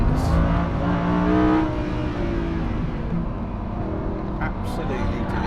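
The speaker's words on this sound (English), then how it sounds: "Listen to that engine." A Lamborghini Huracán LP 580-2 engine revs with a steady, throaty roar that swells and eases slightly, close and loud, with a voice speaking briefly over it.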